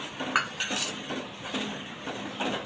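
A spoon stirs custard-powder milk into hot milk in a cooking pot, giving a steady run of scraping clinks against the metal with no talking.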